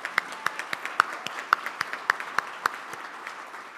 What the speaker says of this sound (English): So if you guys would give him a round of applause.